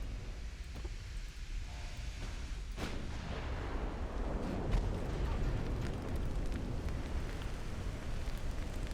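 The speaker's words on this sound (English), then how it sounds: "Torpedo detonation." Torpedo detonation in the naval warship game Ultimate Admiral Dreadnoughts, heard as a sharp crack followed by a sustained low, rumbling roar that swells and lingers at moderate volume, with no talking.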